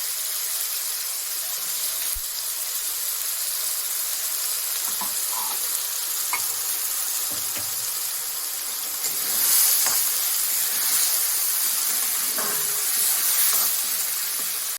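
Spice paste and tomato sizzle in a hot pan for a jackfruit curry with mutton fat, a steady, loud frying hiss that holds throughout with occasional stirring.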